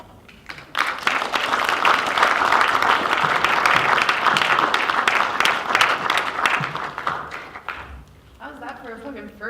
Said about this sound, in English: Can we go one more round of applause, please?